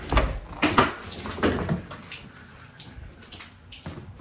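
A shower runs with water splashing and gushing in bursts, then tapers off as the flow is shut, leaving faint drips and small knocks in a quiet bathroom.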